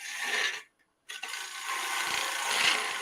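A gouge cuts a wooden bowl spinning on a lathe, giving a steady loud rasping scrape that breaks off briefly and then resumes close up.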